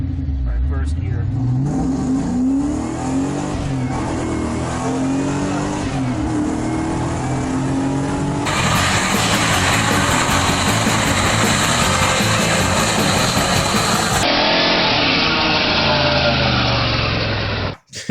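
A 1994-1996 Buick Roadmaster, with nearly 300 lb-ft of torque and an intake silencer, accelerating hard in first gear: a loud, close engine roar that climbs steadily in pitch and strains continuously for about eighteen seconds.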